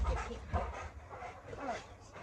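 A dog panting and whimpering close by, with soft yips and breathy sounds coming in uneven bursts while people talk around it.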